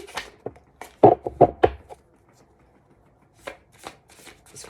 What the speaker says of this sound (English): Cardstock is not thick, so they're hard to shuffle.